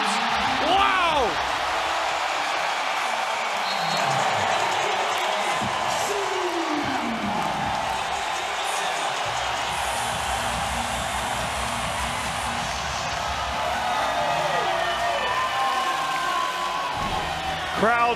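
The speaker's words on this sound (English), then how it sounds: "Crowd going crazy." A basketball arena crowd roaring and cheering after an alley-oop dunk in a Finals game, a dense sustained wall of noise with a commentator talking over it.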